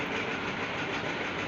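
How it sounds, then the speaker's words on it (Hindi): A ceiling fan runs indoors with a cooler, making a steady, even whooshing drone that fills the room at moderate level, with no speech. "पंखा चल रहा है ना तो ये थोड़ा सा आवाज़ करता है"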